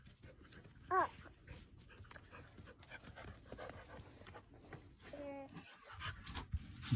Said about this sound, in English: this is a video of a blind dog finding its owner